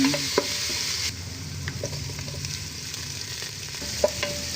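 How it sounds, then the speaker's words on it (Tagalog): Garlic and onion sauté in a pan as the first step of Filipino dinuguan, with steady close sizzling and frying crackle, occasional stirring clinks and scrapes, and no talking. "Una ko munang iginisa ang bawang at sibuyas."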